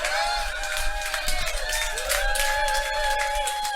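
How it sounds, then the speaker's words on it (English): A large, diverse audience at a live show erupts in sustained cheering and applause, a dense, loud wall of crowd noise with whistles and shouts running steadily throughout. "Audience erupts."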